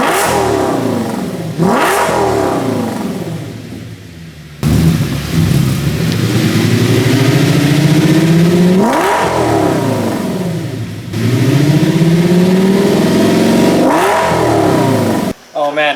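An Audi S6 5.2 V10 engine without mufflers revs repeatedly, several sharp rising roars that fall back to a rumbling idle between them, close by.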